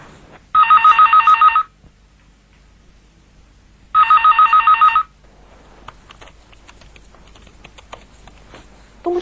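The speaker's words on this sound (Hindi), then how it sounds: "फोन तो उठाओ जरा।" Two bursts of a telephone bell ringing, each about a second long with a steady trilling pulse, separated by a pause, in an indoor scene from a Pakistani TV drama, followed by quieter background clatter.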